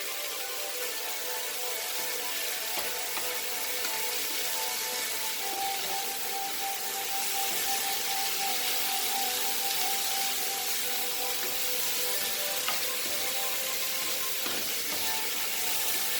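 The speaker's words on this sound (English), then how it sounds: "The tomatoes are nicely getting cooked." Tomatoes sizzle and fry steadily in a pan for paneer mutter gravy, giving a constant close hiss and crackle with no pauses.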